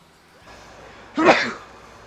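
A single sharp sneeze from someone with allergies, heard close and fairly loud after a faint breath, during a relaxed Mario Kart World gaming session.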